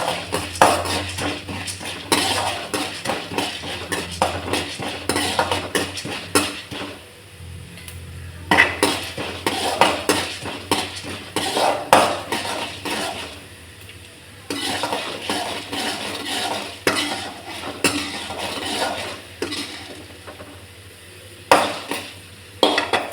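Urad dal dry-roasts in a pan for a coconut chutney, heard as repeated scraping and rattling clatter of a spoon stirring against metal, close and uneven, pausing briefly between bursts.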